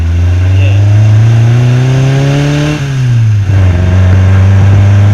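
A small red car's engine revs steadily under load while driving, the pitch climbing, dropping briefly as it eases off, then settling into a loud, close, even drone.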